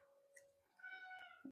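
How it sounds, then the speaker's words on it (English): A cat meows loudly indoors in two or three drawn-out, rising calls, the last ending in a sharp short cry, close to the listener with no talking. "Cat being loud."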